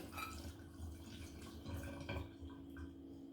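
Quiet liquid being poured off metal-detecting finds after cleaning, with small irregular drips and splashes under a faint steady hum.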